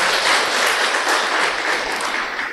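Audience applause at an indoor talk show event, a steady, dense wash of clapping from a crowd that holds throughout without voices.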